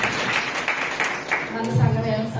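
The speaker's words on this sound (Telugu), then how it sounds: "చప్పట్లు కొడదాం." Congregation at a Sunday church service clapping hands in a steady rhythm of claps, after which a voice speaks over the room.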